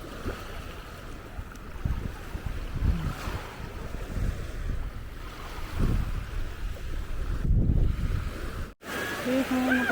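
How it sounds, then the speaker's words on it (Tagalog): Waves wash onto a Maldives beach in a steady rushing surge, heavy wind buffeting the microphone throughout, with people talking over it and a brief cutout near the end. "Parinig ko lang yung water."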